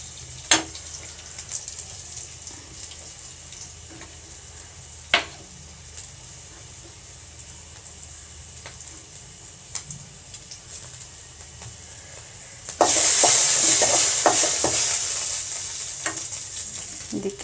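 Fenugreek seeds and garlic drop into hot oil in a pan, with soft clicks and faint stirring at first, then a sudden loud sizzle that bursts up and slowly eases off.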